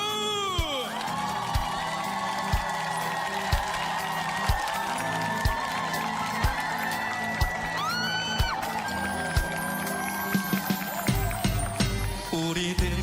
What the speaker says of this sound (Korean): 자, 손머리로 박수!